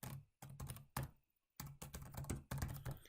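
A computer keyboard used to type a file name: quick bursts of close, crisp keystrokes separated by short silent pauses.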